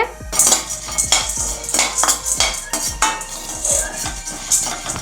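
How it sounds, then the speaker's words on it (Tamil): A spoon scrapes and clinks against a pan as chana dal is stirred and roasted over a low flame, in quick repeated close strokes with no talking. "இப்போ நம்ம கடலைப்பருப்பை வறுத்துக்கலாம்."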